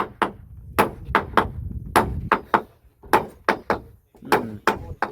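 Repeated sharp hammer blows driving a nut, about fifteen loud, irregularly spaced strikes ringing close by over low background rumble.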